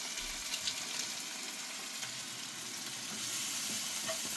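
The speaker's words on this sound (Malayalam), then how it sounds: "നന്നായി ഇളക്കി കൊടുക്കണം." Egg noodles with Maggi and chicken masala, onion and tomato frying in a pan: a continuous quiet sizzle with faint stirring scrapes, steady and close.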